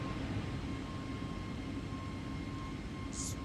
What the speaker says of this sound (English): It's beautiful Airbus A320.